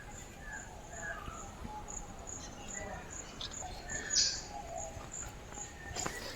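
A lovebird calls at Mukundra tiger reserve with short high chirps and squeaks repeated over a faint outdoor background, quiet and fairly near, with insect-like trills.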